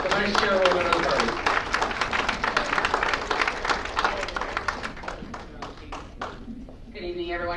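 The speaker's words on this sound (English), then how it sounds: "Let's give a big round of applause to Michelle Phelan, the vice chairwoman of the party" Crowd at a Lake County Democratic reception applauding the party's vice chairwoman, Michelle Phelan, a dense burst of many clapping hands that thins and fades toward the end before a voice begins speaking.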